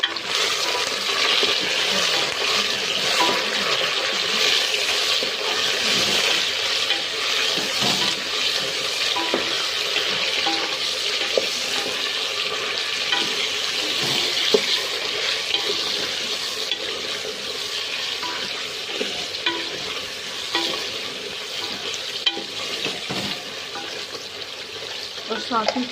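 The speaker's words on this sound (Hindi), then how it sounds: "प्याज मेरे थोड़े से गोल्डन ब्राउन हो गए हैं, तो इस टाइप से मैं इसमें चिकन डाल दूँगी।" Chicken pieces frying in a pan with golden brown onions for chicken haleem, a steady loud sizzle with occasional stirring clatter and scraping throughout, no talk.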